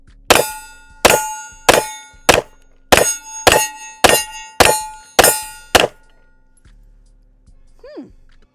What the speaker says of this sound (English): you obviously heard all my shots on steel with the Taurus